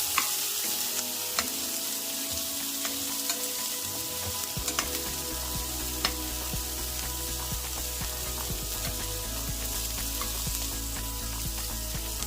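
Fresh peas are stirred into a sizzling pan of dal khichdi, a steady frying hiss under repeated scraping spoon strokes, close and fairly quiet, with no voices.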